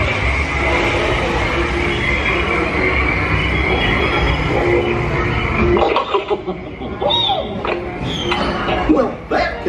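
A ride vehicle on the Mickey and Minnie's Runaway Railway theme park ride rolls along its track with a dense, steady rumble and wheel squeals, continuing loudly throughout with some voices in the background.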